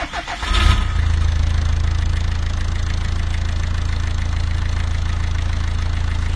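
A Peugeot 406 diesel engine on a rigid steel mount starts up and settles into a loud, close, steady idle with a heavy low rumble and a rhythmic knocking vibration that carries on unbroken.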